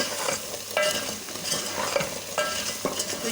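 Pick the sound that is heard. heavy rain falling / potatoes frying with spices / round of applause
potatoes frying with spices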